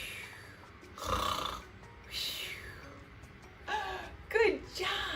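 Children in a preschool group pretend to snore, making several exaggerated snorting, rasping breaths in uneven bursts of voices imitating snoring.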